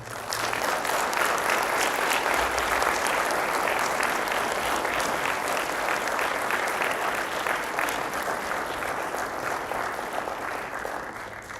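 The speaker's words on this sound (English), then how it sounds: "Can I just please have a round of applause for the" An audience at the ZR26 unveiling event claps in a sustained, dense round of applause that holds at an even level throughout, with no speech over it.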